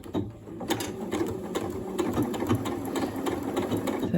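A Janome Horizon Memory Craft 9480 sewing machine stitches a zipper, running in a fast steady mechanical whir with rhythmic needle clatter close by, no voices.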